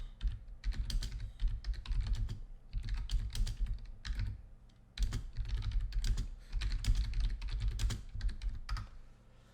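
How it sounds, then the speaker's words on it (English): Steady bursts of rapid clicking on a computer keyboard as a chat message is typed, close and clear, with brief pauses between runs of keystrokes and no talking. "I'll type that in chat."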